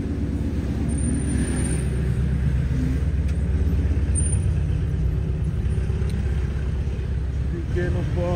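A small Porsche passing along a city street in Balneário Camboriú, its engine and road noise steady amid heavy surrounding traffic, with people talking nearby.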